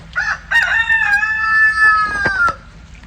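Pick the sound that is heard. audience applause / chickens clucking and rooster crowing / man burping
chickens clucking and rooster crowing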